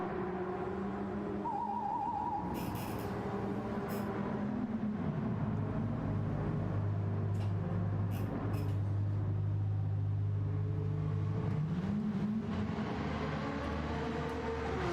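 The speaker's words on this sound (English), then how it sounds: "This pit stop feels like forever." A race car idles through a Gran Turismo 7 pit stop during a tyre change, its engine droning steadily, then the pitch sweeps down and back up as revs shift, with short mechanical clatters of pit work.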